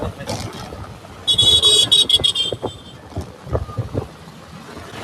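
A vehicle horn honks in a brief burst of repeated toots amid road traffic rumble on a rough road in Palghar, with a voice talking around it.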